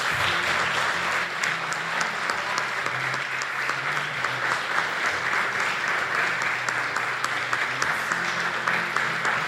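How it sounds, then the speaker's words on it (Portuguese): Church congregation applauding during a worship service, a dense, steady clapping sustained throughout at full strength, with faint voices underneath. "Vamos aplaudir e louvar a Jesus."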